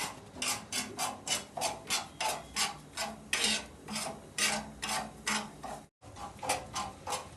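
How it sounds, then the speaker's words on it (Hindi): Sama rice being roasted in a pan for fasting kheer, heard as a steady rhythmic scraping and rasping, about two strokes per second, close and fairly loud, with a brief break near the end. "अपनी व्रत वाली खीर के लिए चावल भूंज रहे हैं।"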